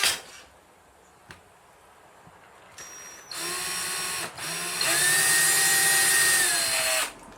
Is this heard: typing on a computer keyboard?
no